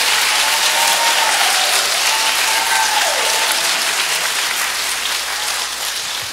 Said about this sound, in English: I think that also deserves a round of applause for our men's choir.